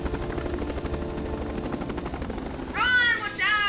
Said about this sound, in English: Check out my new chopper.